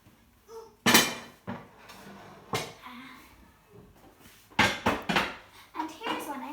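A lidded pot of venison chilli is set into a baking oven, with several sharp metallic clunks and clatters of pot, lid and oven rack, close and fairly loud, amid quieter handling noises.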